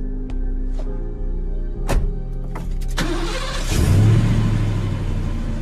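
A car engine cranks with a few sharp clicks and stutters, then catches and roars into a steady, loud rumble that swells as it is revved, close and alone.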